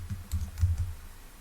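Typing on a computer keyboard: a short burst of soft, muffled keystrokes in quick succession, close by and fading out at the end.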